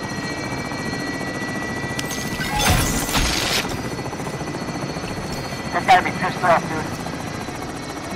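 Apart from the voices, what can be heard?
helicopter flying in a video game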